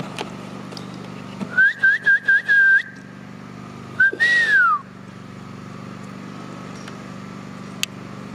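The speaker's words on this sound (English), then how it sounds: "I whistle." A person whistles a short, bright tune: a quick series of chirpy notes, a pause, then one longer rising-and-falling note, over a steady low hum.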